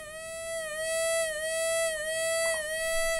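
A steady electronic tone from a filtered dub siren circuit hums with a slow, gentle wobble in pitch. It sounds smooth and mellow, with no voices.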